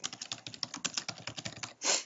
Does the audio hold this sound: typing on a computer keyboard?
yes